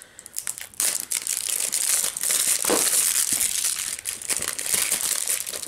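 Phone packaging being torn open by hand during an unboxing, with steady close crinkling and crumpling of paper and plastic that continues for several seconds, no talking.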